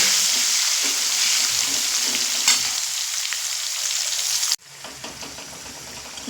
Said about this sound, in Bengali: এই আলুগুলো ভেজে নেব আর একটু মিডিয়াম ফ্লেমে কিন্তু ভাজবো যাতে আলুগুলো পুরো সিদ্ধ হয়ে যায়